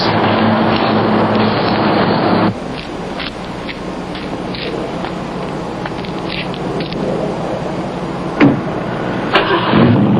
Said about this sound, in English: The car, the Shelby Mustang GT.